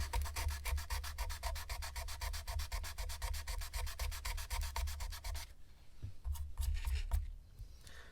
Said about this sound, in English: got a little bit of 220 grit sandpaper here. Try to get down in there, scuff that up